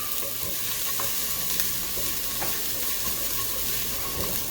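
Garlic and ginger sizzle and fry in a pan in a steady, close, bright hiss, with occasional faint clicks of stirring and no talking.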